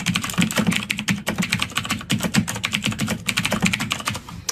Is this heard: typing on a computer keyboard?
yes